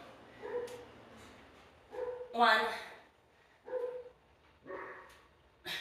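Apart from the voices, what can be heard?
dog barking and whimpering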